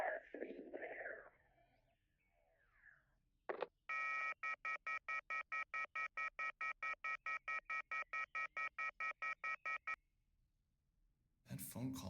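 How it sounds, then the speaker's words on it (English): A phone call in the video game YIIK: soft voices, a short click, then a long run of evenly spaced electronic ringing or dial-tone pulses, followed by a burst of noise. "That phone call was surely one of the strangest I've ever received."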